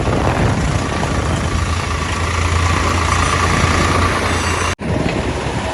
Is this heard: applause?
no